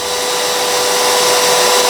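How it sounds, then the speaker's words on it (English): A vacuum cleaner runs on an EcoFlow River 2 portable power station, giving a loud, steady, close whine and rush of air that continues unbroken throughout. "it is running a vacuum currently"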